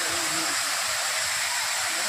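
Pradhanpat waterfall at Deogarh, with falling water roaring steadily and loudly up close, a broad unbroken rush that never lets up, with some faint voices mixed into the spray noise.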